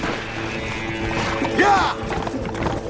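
Horses galloping in the video game Red Dead Redemption, steady clip-clop hoofbeats with a brief whinny partway through, close and continuous under game sound.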